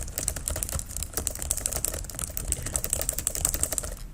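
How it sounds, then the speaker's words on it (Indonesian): Rapid, steady typing on a computer keyboard while entering text in Microsoft Word, with close, crisp key clicks in an even, continuous patter and no talking. "Anda bisa ngetik"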